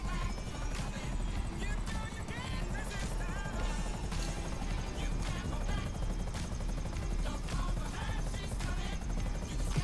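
A helicopter's rotor drones and thumps steadily through the whole stretch over dense, busy game noise in GTA V Online, with a voice talking now and then.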